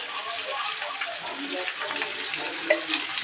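Sizzling and scraping in a pan as sauce is stirred into restaurant-style chili chicken, a steady frying hiss with soft spoon-on-pan stirring strokes close by.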